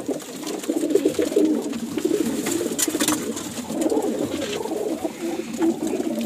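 Domestic pigeons at a pigeon fanciers' club coo continuously and close by, low throaty warbling overlapping from several birds with faint background noise.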